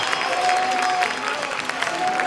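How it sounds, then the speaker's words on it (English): Indoor hockey crowd in a hall in Geneva at a U21 men's EuroHockey match between Austria and Switzerland, cheering and applauding in a dense, steady roar that fills the room, with a whistle-like tone drifting above it. "The noise has gone up. The crowd are being encouraged."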